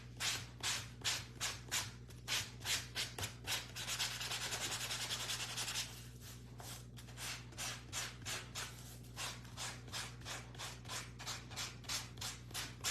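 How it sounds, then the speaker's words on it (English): Sandpaper rubs in quick back-and-forth strokes over a part of a homemade surfboard wagon, close and steady, with one longer continuous grind partway through. "I'm gonna sand this to match the body of in there"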